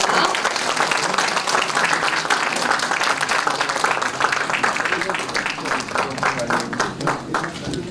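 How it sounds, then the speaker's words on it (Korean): An audience at a memorial lecture hall claps loudly to welcome a girls' high school choir, a dense, sustained roar of many hands that stays strong for several seconds before easing slightly. "큰 박수로 맞이하여 주시기 바랍니다"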